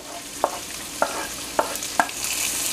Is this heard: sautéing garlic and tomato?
yes